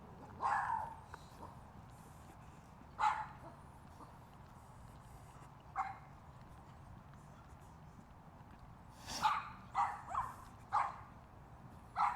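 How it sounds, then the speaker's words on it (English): A dog barks from some distance along a path during an autumn walk, giving several short, separated barks that cluster toward the end, faint against quiet outdoor background. "That dog's not very happy that I'm here."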